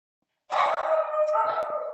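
A dog barks and howls briefly in the background of a video call during a community listening event, a single sustained, moderately loud outburst after a moment of silence.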